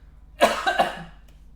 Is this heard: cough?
yes